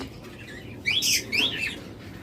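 Caged pet birds such as budgerigars and lovebirds give a few bright, high chirps in a short burst, near and clear, over a low background hum.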